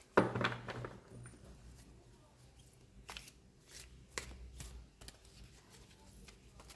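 Caroline Myss archetype cards get handled and shuffled in soft, quiet flurries: a bright riffle at the start, then scattered faint slides and taps with gaps between them.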